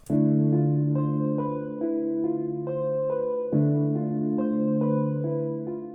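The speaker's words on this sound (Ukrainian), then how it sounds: "А саме це клавішна партія, яка у соло звучить ось так." The solo keyboard part of a hip-hop beat plays sustained chords that change every second or so, steady and fairly loud, with no other instruments or voices.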